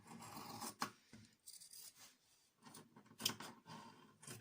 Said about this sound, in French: j'ai épinglé, je vais découper